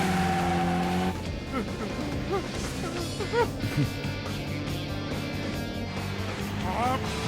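A race car corners hard with repeated tire squeals over a revving engine roar, mixed with excited speech in an animated street-racing scene.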